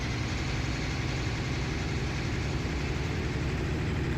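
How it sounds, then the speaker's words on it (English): A tractor engine runs at a steady idle in Farming Simulator 19, a constant low rumbling drone with no change in pitch and no voices over it. "I think this will be the right tractor for this"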